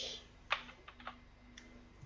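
A few sharp computer keyboard key presses, faint and close, with a steady electronic hum behind them.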